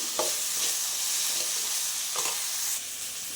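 Ivy gourd frying in a pan on a low flame, a steady soft sizzle with faint stirring scrapes, close and continuous with no voices.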